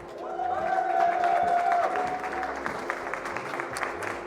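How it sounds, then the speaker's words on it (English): An audience at a DreamHack Mechabellum 2v2 esports showcase breaks into steady applause and some cheering, with a sustained musical tone and a host's voice carrying over the clapping. "Make a round of applause for our winners"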